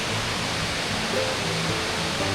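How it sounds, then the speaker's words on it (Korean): The Shirahige waterfall in Hokkaido heard as a broad, steady rushing roar of falling water, constant and enveloping with no voices over it. "저게 흰 수염 폭포."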